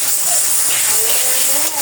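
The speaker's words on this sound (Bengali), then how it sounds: "এখানে হচ্ছে একটু রসুন বাটা দিয়ে দিলাম" Garlic paste sizzles and hisses in hot oil with onions in a pan, a loud, steady, close frying noise, while someone talks over it.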